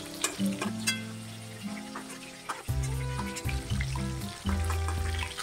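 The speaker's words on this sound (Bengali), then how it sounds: "চিকেনগুলো লো ফ্লেমে ভাজা হচ্ছে" Chicken pieces frying on low flame in hot oil in a wok for dry chilli chicken, a steady close sizzle with clattering stirs and utensil knocks throughout.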